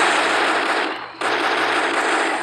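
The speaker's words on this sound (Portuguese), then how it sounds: "Atira nos bichos." Rapid continuous gunfire in the mobile game Lara Croft Relic Run while shooting creatures, a loud dense stream of shots with a brief gap before it resumes.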